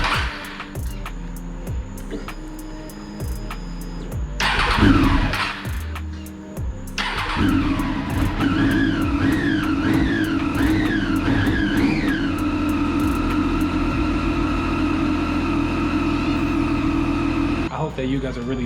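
A Triumph Daytona 675R motorcycle being rebuilt after a wreck cranks and fires up nearby, its starter whirring before the engine catches and settles into a loud, steady idle with a few rising revs.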